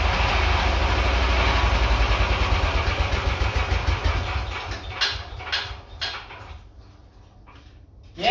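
A dune buggy engine runs loud and rumbling, then falters and dies while lugging in fifth gear, the low throb fading into a few sputters and light mechanical clatter before a final bump.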